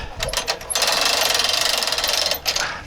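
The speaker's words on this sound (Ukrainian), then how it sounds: "лебідочка прикольна, прикольно крутиться" A new car winch spins, its drum and gears giving a loud, fast ratcheting whir that holds steady for about two seconds before slowing, up close.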